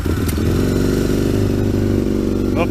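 An Aprilia RSV Mille 1000 motorcycle, started cold, runs with a loud aftermarket exhaust, giving a steady, booming, throbbing engine roar close by for the whole stretch, with no talk.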